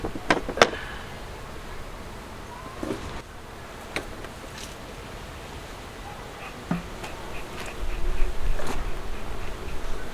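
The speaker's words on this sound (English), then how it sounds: "Little bees." Honeybees at an open backyard hive buzzing in a continuous drone with scattered sharp clicks and taps, moderately close, no talking.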